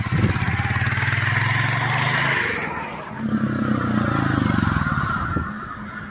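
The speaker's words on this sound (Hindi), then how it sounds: "एक बार मेरी बाइक का एग्जॉस्ट साउंड जरूर सुनाया जाए" A Royal Enfield Hunter 350 motorcycle engine rumbles steadily at close range, its exhaust throbbing with a brief dip midway before revving back up.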